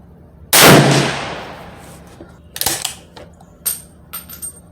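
A Swiss K31 rifle fires one loud, sharp shot outdoors at a target range, its crack decaying over about a second, followed by a few fainter metallic clicks and clatters of the bolt being worked.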